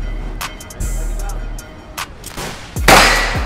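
A CZ Scorpion Evo 3 9 mm fires several sharp, loud shots at an outdoor range, spaced irregularly with a louder blast near the end and a low background rumble between them.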